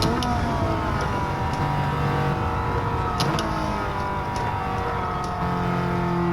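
A 2015 Toyota GT86 drives a lap on a course, its engine droning loud and continuous as revs rise and fall through gear changes, heard from close range.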